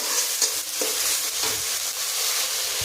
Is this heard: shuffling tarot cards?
no